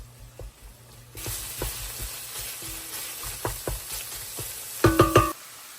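Seasoned cooked turkey is stirred in an oiled frying pan, giving a sizzle that starts just after a second in, with scraping strokes under it and a quick burst of three loud utensil knocks near the end.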